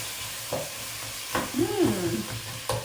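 Drained canned corn, still a little frozen, cooking in butter in a pan for corn chowder, with a few stirring scrapes and a soft sizzle close by, no talking.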